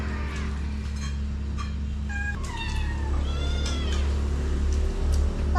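Several cats meow in short, rising and falling calls over a steady low hum indoors, one after another at close range, with no talk over them.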